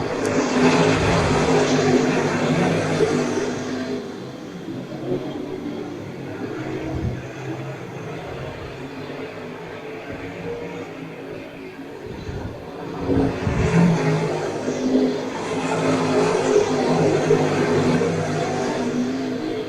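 Late model race cars roar around a speedway track, engine noise swelling loud as cars pass close, easing off mid-clip, then surging again as the pack comes back around.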